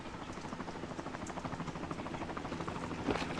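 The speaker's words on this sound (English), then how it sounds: "That helicopter does not look like it's flying." Helicopter rotor in Metal Gear Solid 2, a steady rhythmic chopping pulse, moderately faint and continuous, with a short burst of another noise near the end.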